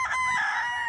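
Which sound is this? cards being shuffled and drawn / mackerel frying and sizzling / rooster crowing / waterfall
rooster crowing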